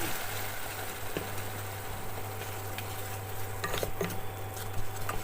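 Spice paste fries in a pan for chana dal as a spoon stirs it, a soft steady sizzle with occasional scraping strokes against the pan, quiet and close, with a low hum underneath.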